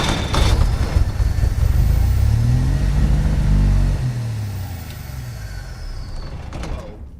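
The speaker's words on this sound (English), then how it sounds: "we have a starting motor" A Willys Jeep engine runs loud and close with a rough low rumble, its pitch rising and falling as it revs, then the noise thins out near the end.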